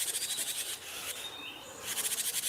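Unfamiliar wild bird call heard in the wild, a raspy, rhythmic buzzing trill pulsing rapidly, pausing briefly as a thin whistled note slides through, then resuming; fairly close and alone with no talking.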